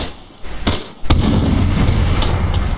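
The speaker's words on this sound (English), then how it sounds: "I threw a frag in that general direction." A frag grenade detonates in a military shooter game, with a sharp burst followed by a loud, sustained rumbling roar and scattered crackles from nearby, preceded by a couple of earlier pops.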